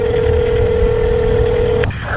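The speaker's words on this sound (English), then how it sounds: "We also called a phone number" Telephone call tone: a steady single-pitched dial tone holds for nearly two seconds, then breaks off into a brief dialing blip, loud and close with no talk.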